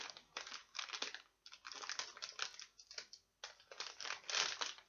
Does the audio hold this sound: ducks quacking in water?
no